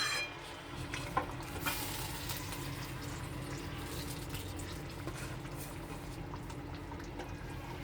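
Potato and cauliflower sabzi scraped and tossed in a pan by a spoon, a steady soft stirring rustle with faint sizzling underneath, close and continuous, no talking.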